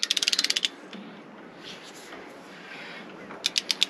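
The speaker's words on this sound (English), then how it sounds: "I need to tension my blade, so I got my big wrench" A large torque wrench tensions the blade on a Range-Road sawmill, giving two bursts of quick ratcheting clicks, one at the start and one at the end, close and crisp, with quieter handling noise in between.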